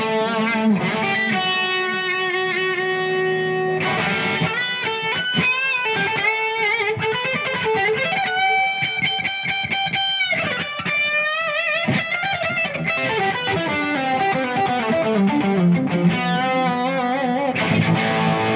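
A distorted Hondo H-1 Death Dagger electric guitar plays a riff of sustained chords and bending notes, loud and gritty, continuous for the whole stretch with no talking.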